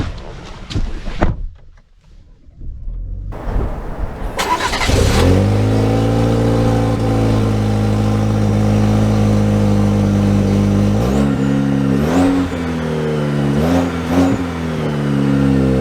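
A 2023 Chevy Colorado with the 2.7 engine and 8-speed transmission pulls away from a standstill, engine note swelling loudly and climbing through several rising sweeps as gears change, heard from inside the cab.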